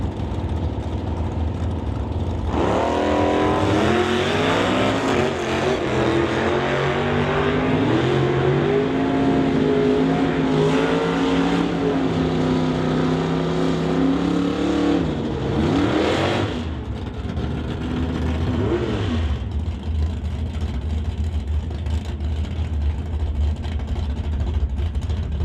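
Drag race cars at an NHRA Summit ET bracket event, including Steve Wilson's 1963 Chevy, rev and launch loudly, engines droning steadily for about fifteen seconds before the roar fades away.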